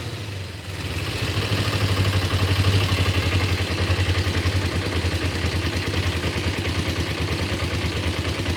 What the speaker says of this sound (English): I look at how rough it's idling